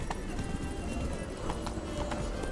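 Roach, a horse in The Witcher 3, gallops with steady clip-clop hoofbeats close by, joined by a brief whinny, under a continuous wash of game background noise.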